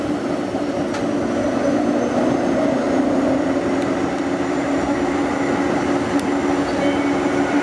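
An A-class tram rolls past on the St Kilda light rail, a continuous rumbling roar of wheels on track with faint metallic squeals, steady and fairly loud throughout.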